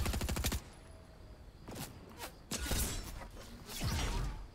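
Rapid gunfire in the Fortnite-style zero builds video game mode: a loud burst of shots at the start, then further scattered bursts of shooting with whooshing effects in between, with no talking.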